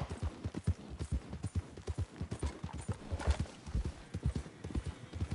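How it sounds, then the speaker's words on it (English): Horses in the Red Dead Redemption 2 video game clip-clop steadily across open country, their hooves beating in a brisk, even rhythm at moderate distance with a low background hum. "Oh, those are horses."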